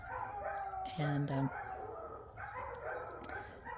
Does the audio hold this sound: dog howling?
yes